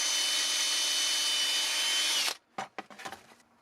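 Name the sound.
power drill drilling a hole through a wooden whirligig hand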